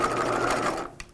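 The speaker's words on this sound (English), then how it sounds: "as I'm sewing up towards the strap point on the back, I am just being really mindful and feeling the layers" Sewing machine stitching through the layers of a 1950s shelf-bust dress near the back strap, a brief close, steady whirring run that stops abruptly with a small click.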